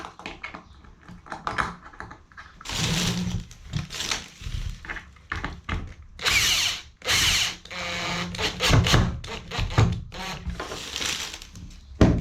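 Power drill driving a screw through a bath during a bathroom fit, heard as repeated loud bursts of whirring and grinding with short pauses between, close by and with no talking.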